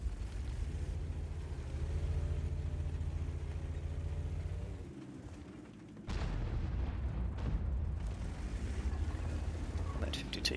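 Grille 15 tank destroyer firing its gun in World of Tanks, a heavy engine rumble broken by a sharp cannon blast partway through, followed by crackling impacts, with a voice speaking over the game audio.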